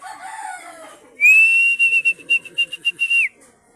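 A gamecock rooster crows nearby, a sharp rising call followed by a long sustained pulsing note, loud and alone after some faint background chatter of other birds.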